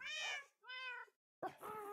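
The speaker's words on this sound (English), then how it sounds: "Bruce and Mojo had a kitten" A Minecraft kitten meows three times in quick succession, clear and close with no talking: two bright, drawn-out mews and then a slightly rougher third.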